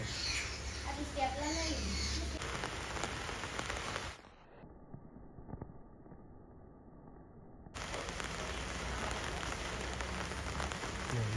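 Rain patters steadily on a surface while children talk and babble nearby, with a brief muffled lull in the middle.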